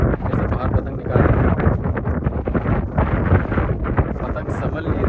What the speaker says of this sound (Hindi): पतंग संभल नहीं रही है, इतनी तेज़ हवा चल रही है